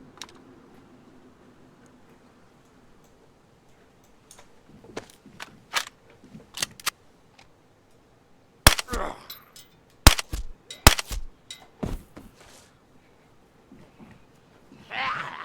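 Suppressed gunshots in an Arma-style survival video game set in Takistan, heard as a series of sharp, brief cracks in irregular bursts over quiet ambience, with a louder cluster in the middle and scattered clicks around them.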